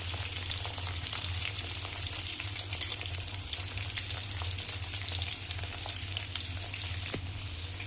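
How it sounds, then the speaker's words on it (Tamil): Dried red chillies and curry leaves frying in hot oil in a pan, a continuous close sizzle with scattered crackles and pops, holding steady for several seconds with no voices. "நெக்ஸ்ட் ரெட் சில்லி போடுறோம்."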